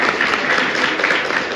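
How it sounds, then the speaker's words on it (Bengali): An audience at a college theatre group's play claps for the young playwright, a dense, steady wash of applause that holds even and loud throughout with no break. "প্রথমেই চয়নের জন্য বড় হাততালি হওয়া দরকার"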